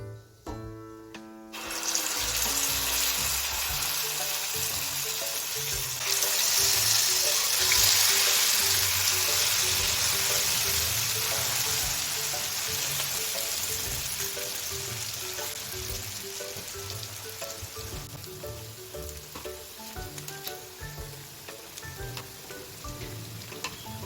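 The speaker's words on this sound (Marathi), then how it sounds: "हा देखील घाणा आपल्याला ब्राऊन कलर येईपर्यंत तळून घ्यायचा आहे" A batch of South Indian vadas deep-frying in hot oil until browned, a loud, dense, continuous bubbling hiss that starts abruptly and slowly eases, heard close and alone without speech.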